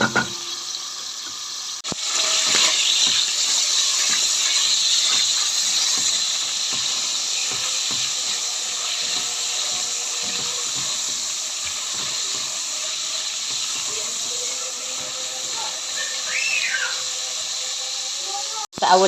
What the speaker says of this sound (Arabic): بحب اشوحهم الاول قبل البصلايه.